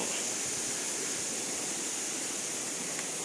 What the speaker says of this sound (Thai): มาถึงด้านหน้าน้ำตกพอดี มีป้ายน้ำตกส้อยสวรรค์นะครับ